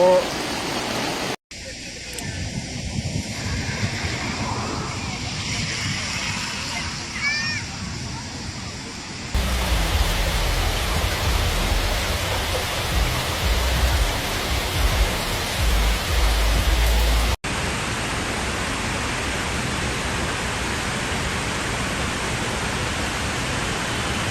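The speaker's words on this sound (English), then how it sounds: "Nanyang City has been hit by heavy rain and torrential rain" Heavy torrential rain pouring during flooding in Nanyang, China, a dense, loud, continuous roar of water that runs unbroken throughout, with some background speech at one point.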